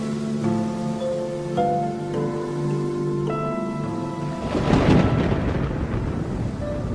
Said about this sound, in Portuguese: uma tempestade começa a se formar